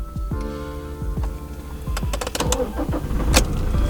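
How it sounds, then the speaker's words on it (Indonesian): A Toyota Fortuner with automatic transmission starts up: a few clicks and ticks, then the starter cranks and the engine catches, growing louder into a running rumble near the end, with no talking. "Jadi dinyalakan terlebih dahulu mobilnya."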